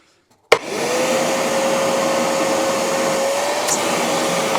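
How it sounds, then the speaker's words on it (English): A Craftsman shop vac switches on with a sharp start and runs steadily, a loud, continuous whirring roar with a constant motor whine, heard alone without talk. "I have a shop vac now. And I do like the Craftsman."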